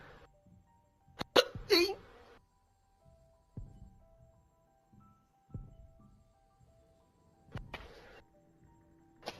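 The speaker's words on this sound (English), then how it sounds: "Oh man, I've got hiccups." A person hiccups several times in short, sharp bursts spread across a quiet stretch during a Call of Duty Black Ops game session, with a low steady hum underneath.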